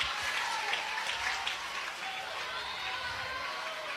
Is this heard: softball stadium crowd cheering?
yes